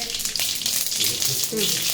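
Mustard seeds and cumin tempering in hot oil for a Karnataka-style puffed rice dish, a steady close sizzle with crackle and spatter, while a voice talks over it.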